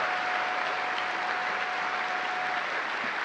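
A crowd at a NASA Commercial Crew announcement event gives sustained, steady applause, a dense wash of clapping with no speech over it.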